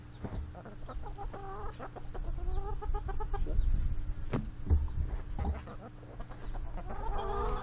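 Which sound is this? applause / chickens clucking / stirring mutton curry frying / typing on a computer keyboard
chickens clucking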